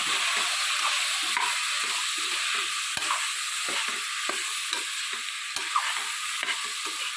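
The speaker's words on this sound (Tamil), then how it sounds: "காயெல்லாம் கொஞ்ச நேரம் அப்படியே நல்லா எண்ணெயில் வதங்கட்டும்" Vegetables sauté in hot oil with chilli powder and turmeric, a steady sizzling hiss broken by repeated stirring scrapes at an even rhythm, close and fairly loud with no talking.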